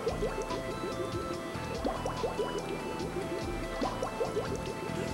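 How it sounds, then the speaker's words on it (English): Soft-serve mix in a Taylor C708 machine gurgles and drips as it bubbles down into the freezing cylinder, with a steady liquid trickle and repeated small bubbling pops under a constant machine hum. "When mix stops bubbling down into the freezing cylinder"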